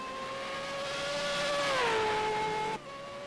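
An Ascari race car engine in a racing video game at the Nürburgring, a sustained tonal whine that rises and then drops in pitch as it shifts, cutting off abruptly near the end.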